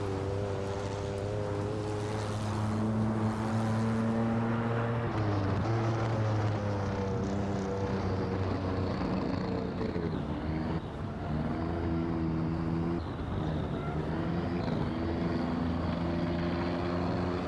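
A 1950 post-war racing car on the Silverstone circuit in a racing simulation, its engine droning steadily with shifting harmonic tones as revs rise and fall through the lap, loud and continuous with no talk.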